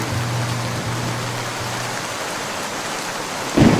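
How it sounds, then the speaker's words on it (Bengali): Cartoon rain falls as a steady, dense hiss of drops that holds even throughout, with a low hum underneath and a sudden louder burst near the end. "বৃষ্টি একটু তীব্র হয়"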